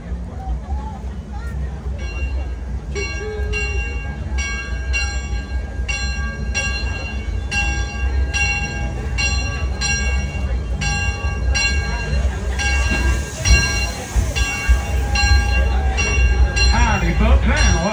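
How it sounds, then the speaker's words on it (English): A Six Flags Over Texas Railroad train ride during Fright Fest, with a steady rumbling roll of the train cars, a sustained whining tone and a continuous background babble of riders talking throughout. "I'll be your conductor here in the back of the train today."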